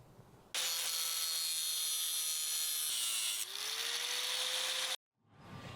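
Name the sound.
cutting metal along a marked line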